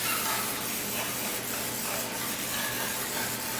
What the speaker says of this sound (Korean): 그래도 뭐 또 달라붙지 말라고 이렇게 스프레이를 뿌려주시는 것도 좋은 아이디어예요.